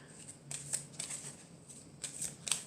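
Tarot cards are shuffled by hand in quick, close, soft riffling bursts, with several brief flurries of papery flicking over about three seconds.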